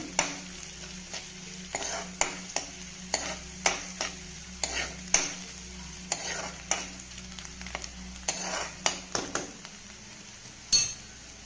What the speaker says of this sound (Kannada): ಇವಾಗ ಬೆಳ್ಳುಳ್ಳಿ ಹಾಕ್ತೀನಿ ಬೆಳ್ಳುಳ್ಳಿ ಹಾಕಿದ ಮೇಲೆ ಶುಂಠಿ ಬೆಳ್ಳುಳ್ಳಿನ ಸ್ವಲ್ಪ ಫ್ರೈ ಮಾಡ್ತೀನಿ